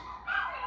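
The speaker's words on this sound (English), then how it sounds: "I know you hear some barking" A few dogs barking and yipping indoors at home, faint and brief, one short burst rising over quiet room background.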